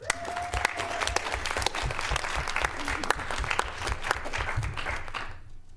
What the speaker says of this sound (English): So we all give him a round of applause